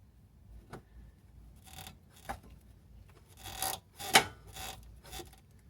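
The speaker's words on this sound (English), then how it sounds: "the Prius has been making funny noises whenever I go over a bump or a speed bump or whatever" A worn rear bushing on the front lower control arm of a second-generation Toyota Prius creaks while the suspension is worked, making soft, scattered rubbing squeaks in short irregular bursts at close range.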